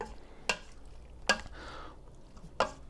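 A spoon scrapes and knocks through corn and beans inside an Instant Pot, with three sharp clacks against the pot amid soft stirring, close and fairly quiet.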